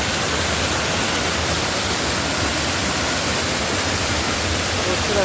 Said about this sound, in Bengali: ঝর্ণাটা সত্যি দেখবার মতো। এই রক গার্ডেনের ঝর্ণা।